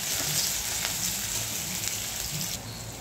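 Curry leaves and garlic sizzle steadily in hot oil for a bitter gourd bhaji, a dense, even crackling hiss that holds at the same level throughout, with no voices.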